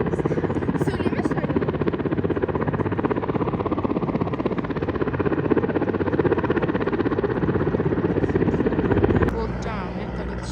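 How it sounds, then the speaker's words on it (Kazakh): A helicopter passes over an outdoor mountain area near Medeu, a loud, steady rotor drone that holds for about nine seconds before dropping away sharply, with voices occasionally heard beneath it. "Вот жаңа вертолет ұшты."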